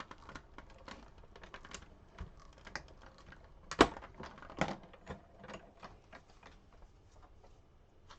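A manual die-cutting machine is cranked by hand, rolling card and fancy dies through its plates with a quiet run of rapid, irregular ratcheting clicks and one sharper clunk partway.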